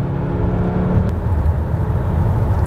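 A 2008 Citroen C4 Picasso's engine drones loudly at steady high revs from inside the cabin, a continuous rumbling whir with no talk over it.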